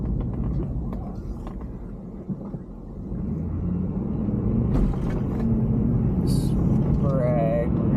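A car drives down a street in Spokane, heard from inside as a steady low engine and road rumble that swells slightly toward the end, with a voice faintly underneath.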